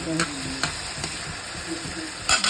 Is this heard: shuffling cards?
no